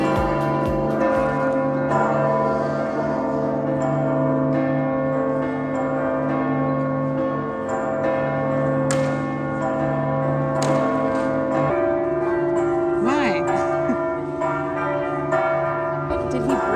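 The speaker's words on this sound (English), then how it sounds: "Apparently at 6:51, we're ringing bells." Church bells ring near a cheap beach hotel in Malta, a loud, continuous peal of overlapping tolling tones sustained throughout, with a shift in pitch pattern toward the end.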